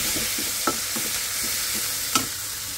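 Prawns stir-fry in a hot pan with a steady close sizzle, broken by several scraping stirs and two sharper clanks of the utensil.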